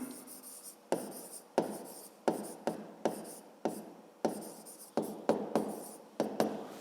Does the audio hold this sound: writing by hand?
yes